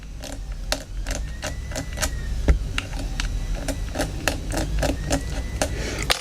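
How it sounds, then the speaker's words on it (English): A fiberglass pen scrapes at a damaged label pad inside a Motorola GP340 radio in rapid, even scratching strokes, close up, with no one talking. "So we're just going to use a fiberglass pen to clean up in here. Let's have a quick scrape of that"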